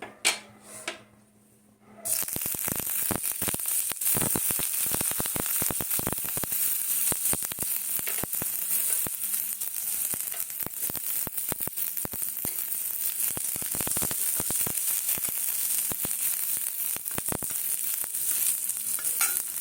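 Garlic and sesame seeds sizzle steadily in a little hot oil for momo, a dense, continuous frying hiss with frequent small clicks and scrapes of stirring in the pan.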